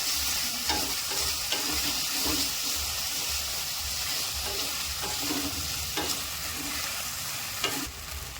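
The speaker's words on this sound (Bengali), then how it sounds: "দিয়ে এবার মশলাটা আরেকটু ওই টমেটোর সাথে কষিয়ে নিতে হবে" Spices sizzle as they sauté with chopped tomato in mutton fat for ghugni, a steady frying hiss broken by occasional spoon scrapes and stirs.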